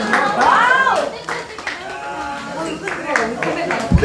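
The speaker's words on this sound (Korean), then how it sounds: "자, 박수 한번 주세요." An audience claps at an awards ceremony held as the year-end final of an amateur singing contest. The applause is moderate and runs under a voice talking over a microphone.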